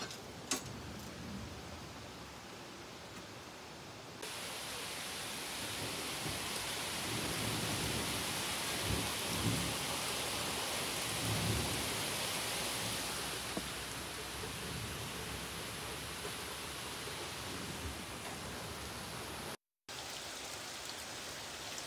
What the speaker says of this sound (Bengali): অনেক ঝপঝপে বৃষ্টি পড়তেছে